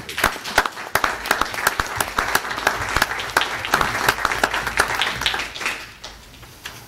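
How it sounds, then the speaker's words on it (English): A crowd at a Peoria Board of Education meeting gives a warm round of applause to culinary champions. Steady clapping lasts several seconds, then thins and fades out. "I just think they deserve a round of applause."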